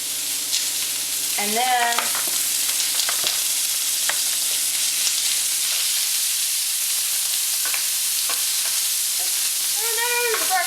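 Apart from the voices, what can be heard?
stir fry frying in oil in pan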